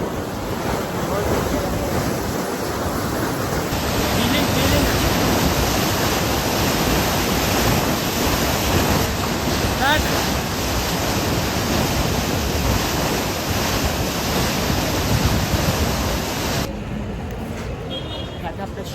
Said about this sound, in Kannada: ಫುಲ್ ನೀರು ಹರಿಯಾತವ ಇಲ್ಲಿ.